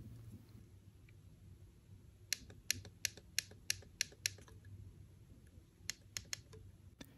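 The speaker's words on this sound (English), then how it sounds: "now let's listen to the sound of the CPI button" Sharp little clicks of the CPI button on a Finalmouse Starlight-12 Achilles gaming mouse, a quick run of about seven evenly spaced, then a few more after a pause, close and crisp over faint background hiss.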